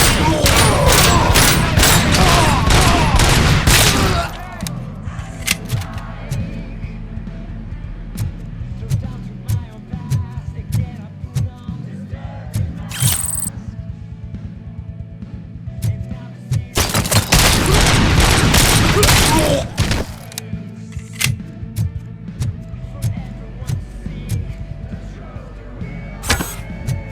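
Gunfire erupts in RoboCop: Rogue City, loud dense volleys in two long bursts with booming impacts and scattered shots between, game voices shouting in the lulls.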